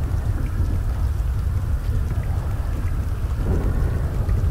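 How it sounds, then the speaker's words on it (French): A thunderstorm in the video game GTA 5 gives dense, steady rain with a low, continuous rumble of thunder throughout, loud and close. "Ah non, c'est l'orage."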